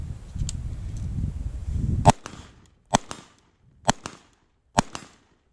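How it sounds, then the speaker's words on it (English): Colt rifle gunshots ring out at a range, four sharp loud cracks spaced about a second apart after a stretch of low rumbling background noise. "But let's see how she shoots."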